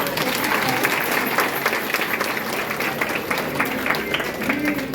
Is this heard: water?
no